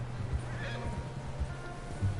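A horse in Red Dead Redemption 2 whinnies close by, a short neigh with soft hoof clops and low background ambience.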